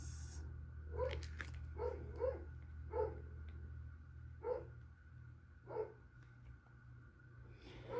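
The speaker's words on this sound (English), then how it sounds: "the dogs are going nuts" Several dogs bark repeatedly in short, separated bursts, moderately distant, over a steady low hum, with no talking during the clip.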